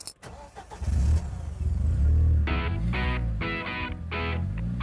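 A Melkus RS1000, an East German sports car with a VW engine, starts and settles into a loud, rough idle with rhythmic engine revving close by, no voices.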